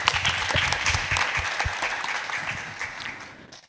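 Applause from an audience at an international public-private forum, dense steady clapping that gradually fades out over a few seconds.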